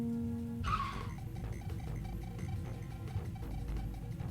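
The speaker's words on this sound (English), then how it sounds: "The driver frantically pushes the brakes, halting the screeching carcass of his car." A car brakes hard with screeching tires, a sharp squeal rising over a low engine rumble and then fading into a rough, sustained skid noise.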